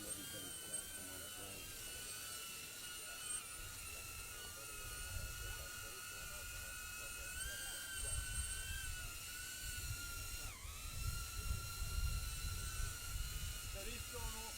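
A police drone hovering overhead at an outdoor scene, its rotors giving a continuous high whine with a steady tonal buzz that shifts pitch slightly, with lower rumbling ambient noise underneath and no break across the clip.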